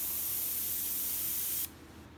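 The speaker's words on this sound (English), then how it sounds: "we're going to spray it again, back from a distance" A fine-mist spray of liquid hisses steadily onto enamel powder on basse-taille earrings for torch firing, held back at a distance, then cuts off abruptly near the end, leaving quiet room tone.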